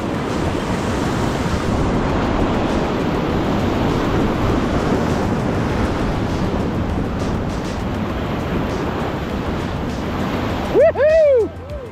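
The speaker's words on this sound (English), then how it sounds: "Those are big waves" Heavy surf from big ocean waves roars as a broad, steady wash for several seconds, loud and buffeted by wind on the microphone, while out fishing on open water; a short burst of voices cuts in at the end.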